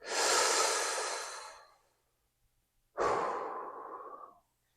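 Two long, breathy nasal sniffs of a glass of Pinot Grigio white wine, the first about one and a half seconds and the second after a short pause, both close and fairly quiet with no talking.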